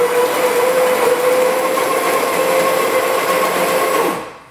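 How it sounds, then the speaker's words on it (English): A coffee grinder runs loudly and steadily with a continuous motor whine and burr rasp while its grind setting is adjusted. It winds down and stops at the end. "we want to run the grinder while we adjust it"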